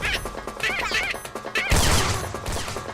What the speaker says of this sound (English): droning thing that sounds like glass breaking